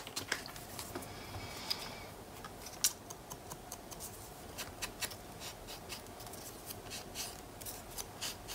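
Trimming a strip of tape to fit, with a series of soft close snips and light scraping ticks scattered at irregular intervals over a quiet background.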